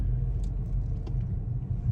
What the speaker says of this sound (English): And there is a car.